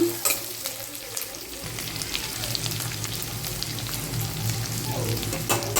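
Sliced onions fry and sizzle steadily in a pan for beetroot poriyal, a continuous close crackling hiss with occasional stirring scrapes and no talking.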